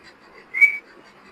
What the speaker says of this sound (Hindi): सीटी का आवाज।